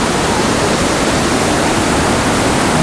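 Dense, unbroken roar of a powerful waterfall, the pressure of falling water throwing spray and wind, loud and close with no voices.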